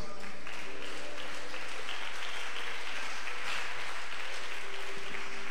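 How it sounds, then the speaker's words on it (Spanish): A church congregation applauds steadily, a dense wash of clapping that holds at moderate level throughout with no voices standing out. "Dele ese aplauso a Cristo."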